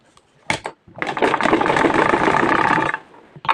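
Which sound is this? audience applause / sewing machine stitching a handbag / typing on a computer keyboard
sewing machine stitching a handbag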